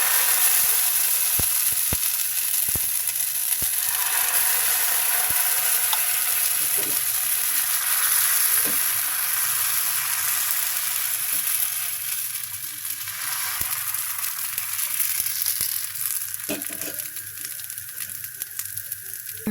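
Pitha rice cake frying in a hot pan gives a continuous bright sizzle and crackle of oil, steady and close, with occasional clicks and scrapes of a utensil against the pan and no talking.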